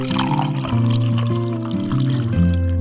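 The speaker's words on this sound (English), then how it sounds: "A little tip when pouring tea, especially when you're pouring tea for multiple people" Tea pours into cups, a close, continuous liquid stream whose pitch climbs in steps as each cup fills.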